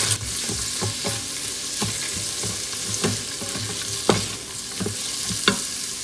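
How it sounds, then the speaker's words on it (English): Chopped onion sautés in a pan for vegetable pulao, a steady close sizzle broken by repeated scrapes and clacks of a spoon stirring against the pan. "Time to add onion. Saute this well."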